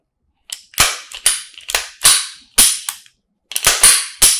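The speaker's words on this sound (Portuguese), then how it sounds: "arma ciclando, bom, arma funcionando corretamente." A Taurus PT59s pistol's action cycling during a function test, a series of sharp metallic clacks, single and in quick pairs, up close with a pause in the middle.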